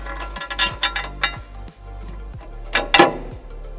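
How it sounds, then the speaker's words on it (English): Carriage bolt being fed through a hole in a metal lower control arm skid plate on a Toyota Tacoma, a series of close metallic clinks and taps with short scraping between, no talk. "We're just going to feed this through this back hole right here and then bolt it in the same way as we did the front."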